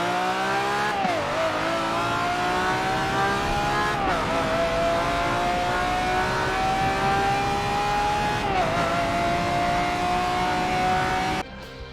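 A Lamborghini Reventon's engine revs hard and accelerates loudly and close, its pitch climbing through three gearshift dips with a steady powerful roar and no talking.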